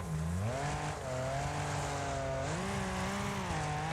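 Race car engine in the Wreckfest video game, a loud continuous exhaust note that climbs through the revs, drops briefly as it shifts, then rises again, with no talk over it.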